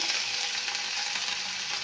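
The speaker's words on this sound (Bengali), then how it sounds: "ইডলি চাটনি বানানোর জন্য কড়াইতে সাদা তেল দিয়েছি, কারি পাতা দিয়ে দিলাম" Curry leaves hit hot white oil in a wok, giving a steady, bright, fairly soft sizzle and crackle that continues evenly with no voices.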